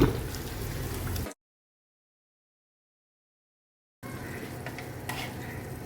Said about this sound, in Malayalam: എല്ലാം കൂടെ നന്നായിട്ടൊന്ന് മിക്സ് ചെയ്ത് കൊടുക്കുക